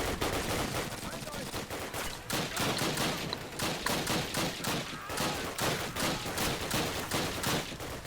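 MP44 assault rifle fire in the World War II shooter Call of Duty: United Offensive, rapid bursts of sharp shots repeating steadily for several seconds, loud and close against constant battlefield background noise.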